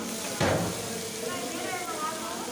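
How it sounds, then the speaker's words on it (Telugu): Soft sizzling of spices and turmeric frying in hot oil, with a brief louder burst as something hits the pan, then a steady low crackle. "మంచిగా ఆయిల్లో వేయించుకోవాలి"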